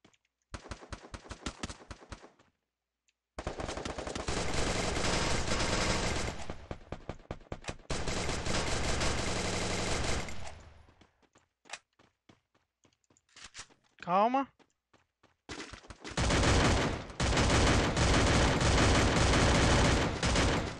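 Rapid automatic gunfire in Free Fire rattles in long, loud sustained bursts with brief gaps, plus a few separate shots and a short whooshing sweep midway.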